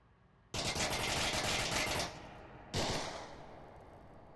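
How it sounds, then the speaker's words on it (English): Grenades detonate in the VR shooter Onward during a competitive team match: a loud, sustained blast rumbles for about a second and a half, then a second explosion bursts and slowly fades, with no voices. "Nades going off like it's World War I and a barrage."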